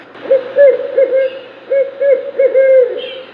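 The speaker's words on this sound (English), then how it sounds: "Barred owl." A barred owl hoots a steady series of deep, rounded calls in a rhythmic sequence, close and loud in quiet surroundings.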